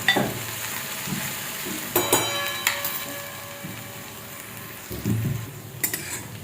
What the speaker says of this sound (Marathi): हिरवी मिरची आपल्याला चांगली परतून घ्यायची